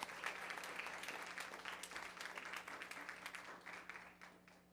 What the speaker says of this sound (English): Clap your hands for it.